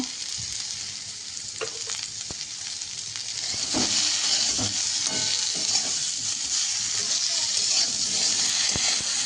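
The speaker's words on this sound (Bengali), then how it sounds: "সিদ্ধ আলুটা এখানে মশলার সঙ্গে কষানো চলছে" Boiled potatoes are stirred with spices in a hot pan, a loud dense sizzle that swells and stays strong, with a few scraping strokes near at hand and no voices.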